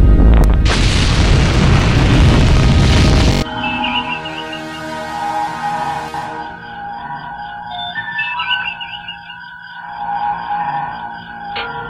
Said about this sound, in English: Fire photon torpedoes.